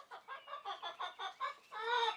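A backyard chicken clucks in a quick rhythmic run of short, close calls, ending in a longer drawn-out squawk, clear and alone with no talking.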